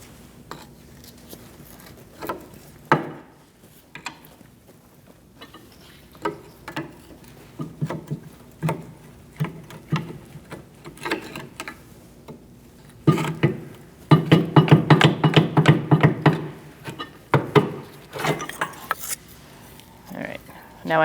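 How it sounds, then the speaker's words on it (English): A pry bar works a rear brake caliper off a 2000-2006 Mini Cooper, giving sharp metallic clicks and scrapes, with a dense burst of rattling in the middle and quieter taps before and after. "Now we're going to use a pry bar, and we're going to take off the caliper,"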